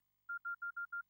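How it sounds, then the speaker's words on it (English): Five quick phone keypad beeps (DTMF tones) sound in an evenly spaced row, each a short clean tone, crisp and alone against silence. "That's the phone keypad. I forgot to turn those off when I recorded"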